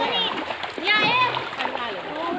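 Water splashing as people bathe in a river, choppy bursts of splatter close by, mixed with children's voices and excited chatter throughout.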